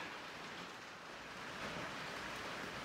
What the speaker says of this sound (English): the rain that's beating down on the barn right now